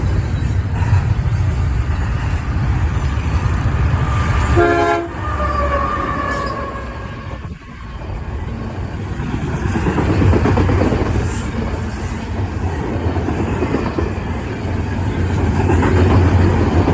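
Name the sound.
CSX freight train with Canadian Pacific locomotive passing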